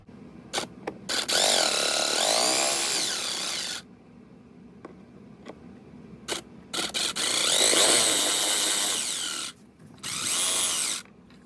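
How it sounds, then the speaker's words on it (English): A DeWalt power ratchet whirs in several bursts while backing out 5mm hex bolts on a BMW SMG pump, with short clicks and handling noises between the runs, close and fairly loud with no talking. "I'm gonna use my DeWalt power ratchet"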